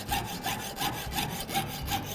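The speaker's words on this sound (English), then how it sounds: "When you get close to your corner, slow down your saw, and as you reach the kind of point where you want to turn, have your saw going up and down" Jeweller's saw piercing sheet metal in a steady back-and-forth rhythm, about five or six quick rasping strokes, close and fairly quiet, with no talk.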